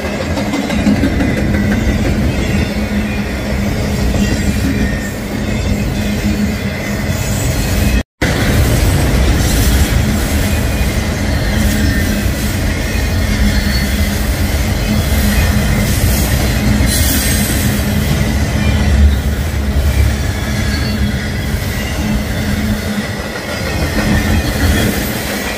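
A Union Pacific manifest freight train passing close by at speed, a loud continuous roar of wheels and rumbling cars with rhythmic clatter and occasional squeal, sustained throughout with a brief dropout near the middle.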